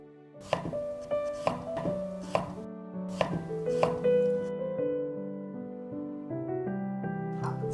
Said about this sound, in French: Ensuite, on va couper le gingembre.